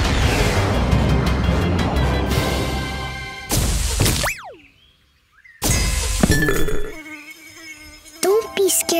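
A cartoon bee buzzes in a children's animated show, a sharp whining drone heard alongside crashing and breaking sounds, a rising whoosh and a brief silence. Playful musical effects follow.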